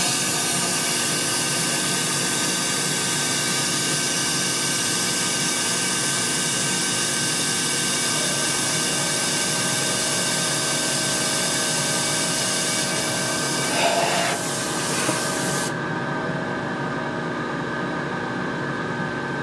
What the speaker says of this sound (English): I'll just fill the spray cup with some water and run it through